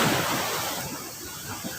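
Large waves crash against big rocks on a rough shore, heard as a broad, continuous wash of surf that is moderately loud and fairly close.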